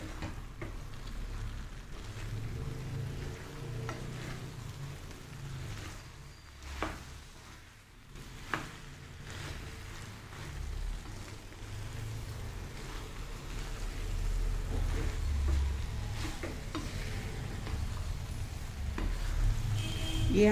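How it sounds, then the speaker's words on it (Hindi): Soybean biryani is stirred and mixed in a hot pan, a steady low sizzle with soft scraping and a couple of brief clanks, fairly quiet and continuous, with no talking. "अब हम ये सारा मिक्स कर देंगे।"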